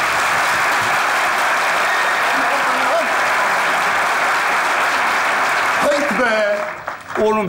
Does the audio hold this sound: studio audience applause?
yes